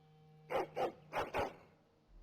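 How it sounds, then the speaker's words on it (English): A hound in the video game Dragon Age Origins barks angrily, four sharp, close barks in two quick pairs over a faint background hum, with no talking. "Angry barking. Indeed. And a hound amongst them."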